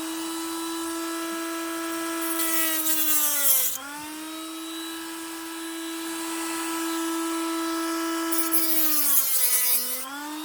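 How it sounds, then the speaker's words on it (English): A Dremel rotary tool whines steadily as it cuts through the plastic body of a Scalextric Porsche 956 slot car, its pitch dipping twice as the bit bites harder, with brief hissing scrapes of plastic; no talking. "I need to quickly go through that Dremel again"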